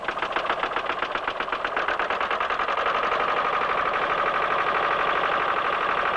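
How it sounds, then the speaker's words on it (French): An old diesel engine chugging steadily as it generates electricity, a loud, even, rapid knocking rhythm that holds constant throughout, close up with no voices. "met en marche le vieux moteur diesel, qui fournit un courant électrique de médiocre qualité,"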